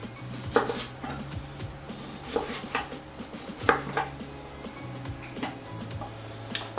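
Turnips being cut with a knife into small cubes about 4 mm across on a board, a series of crisp, irregular chops close by, with short pauses between bursts and no one talking.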